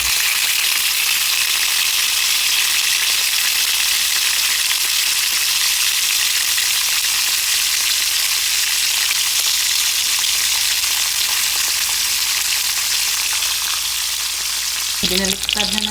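Chicken fries in hot oil with a steady, dense sizzle throughout, and a brief clatter of turning the pieces near the end.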